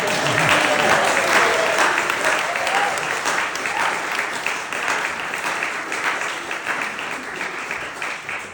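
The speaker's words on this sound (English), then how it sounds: "Yes, you can clap." An audience at a new member ingathering ceremony breaks into steady, dense applause that fills the room and holds loud throughout, with faint voices mixed in beneath the clapping.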